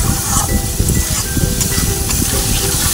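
Masala of cumin powder, turmeric and Kashmiri chilli powder frying in oil in a pan as the oil separates, giving a steady, close, dense sizzle and crackle throughout with no talking.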